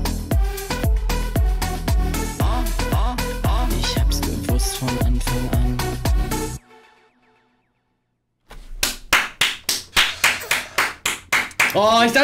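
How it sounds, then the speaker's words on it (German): Hands clap repeatedly over rhythmic music, then a brief silence, followed by a burst of louder, close, evenly spaced claps. "Jetzt habe ich unnötig geklatscht."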